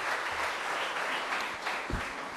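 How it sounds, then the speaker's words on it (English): Applause from a Mass congregation in a chapel, a steady wash of many hands clapping at moderate level with no talk, a faint low thump near the end. "Let's give a warm of applause to our family prayer leaders"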